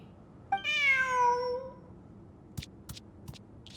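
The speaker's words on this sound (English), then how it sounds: "Who's a good kitty?" A single drawn-out cat meow from Genshin Impact rises and falls clearly and close, followed by a few faint ticks and clicks.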